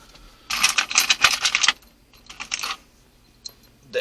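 Metal roof rack bolts for an S10 Blazer are handled, jingling and clinking together in two short bursts of bright metallic rattling, close and clear with no talk.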